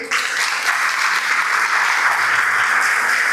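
A crowd applauds at a motivational lecture on the power of decision, held at Senac, with dense, loud, sustained clapping throughout and no talk over it.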